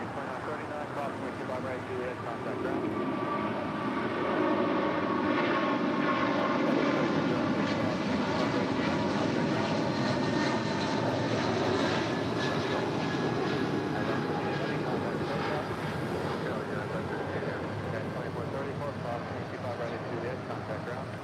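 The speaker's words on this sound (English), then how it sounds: "United Airlines flight 1158 heading to Honolulu, and a 777-200 is our next departure here on the south side at 25 right." A United Airlines Boeing 777-200 takes off from runway 25 right at a busy airport, its engines building to a loud, sustained roar that holds steady for the whole stretch, with a voice talking over it.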